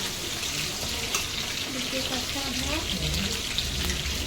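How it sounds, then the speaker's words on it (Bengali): Chicken deep-fries in hot oil until crispy, giving a continuous close sizzle and bubbling while a voice talks over it. "সব ডিপ ফ্রাই করে নেবেন, ভালো করে ডিপ ফ্রাই, আর যাতে ওটা ক্রিস্পি হয়"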